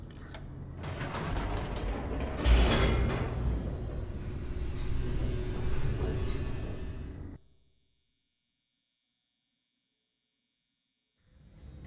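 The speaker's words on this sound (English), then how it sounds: "The elevator raced downward," In the video game Stanley Parable 2, an elevator descends with a steady mechanical grind, creaking and rattling gears for about seven seconds, then cuts to silence.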